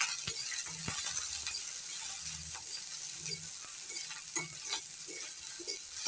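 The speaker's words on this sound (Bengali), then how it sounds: "লঙ্কাগুলো একটু ভেজে নেব অনবরত নাড়াচাড়া করে ভেজে নিচ্ছি লঙ্কাগুলো" Green chilies fry in a pan for a drumstick flower paste, stirred constantly; a soft, steady sizzle hiss runs beneath repeated light scraping and clicking strokes.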